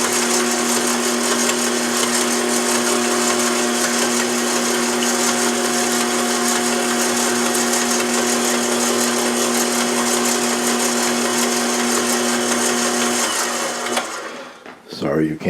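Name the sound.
electric mixer mixing sourdough starter with water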